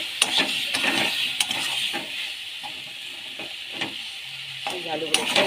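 Potatoes and aubergine are stir-fried in a pan, a continuous bright sizzle broken by frequent spatula scrapes and metallic clinks, close up and lively, with no talking.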